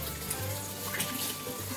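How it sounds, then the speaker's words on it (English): A kitchen tap runs while hands are rinsed under it, a continuous close splashing flow with slight shifts as the hands move in the stream. "Just gotta rinse my hands off."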